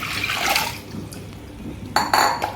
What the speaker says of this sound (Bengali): তো কুকারে এখন আমি ওয়াটার দেব